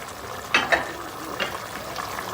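Chicken liver and halved garlic cloves being stirred slowly in a frying pan, a gentle bubbling sizzle with a few soft scrapes and taps of the spoon close by.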